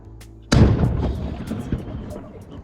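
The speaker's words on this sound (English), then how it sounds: "Here you can see the exact moment of the cannon blast." A single loud cannon boom erupts in Halifax, Nova Scotia, after a quiet moment, then a long rumbling echo rolls away and fades.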